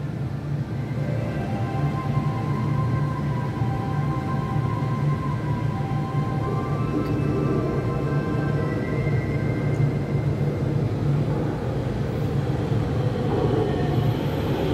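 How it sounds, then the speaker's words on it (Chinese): Two Taoyuan Airport MRT express trains meeting at New Taipei Industrial Park station, a steady low rumble with rising and falling motor whine as the trains arrive and pass, loud and sustained throughout. "有列车来了，双交会"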